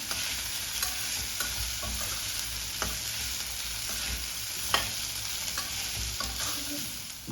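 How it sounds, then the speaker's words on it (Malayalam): Fried corn stirred in a hot pan, with steady sizzling throughout and scattered scraping clicks from the spoon at irregular intervals, close and moderately quiet. "ഇതൊന്ന് നന്നായിട്ടൊന്ന് മിക്സ് ചെയ്യാം"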